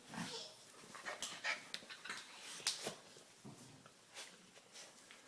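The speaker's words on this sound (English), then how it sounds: "Yeah, that's a doggy." A dog pants in quick, uneven breaths with faint whimpers, close by and fairly quiet.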